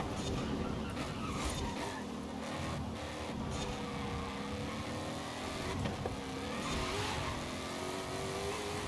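Ford Mustang Dark Horse in Forza Horizon 5 accelerating under a steady, loud engine drone with shifting harmonic tones, continuous throughout with little variation.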